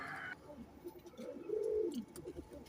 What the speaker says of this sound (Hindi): माशाल्लाह बहुत अच्छे कबूतर हैं,